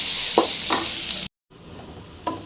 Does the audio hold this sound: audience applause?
no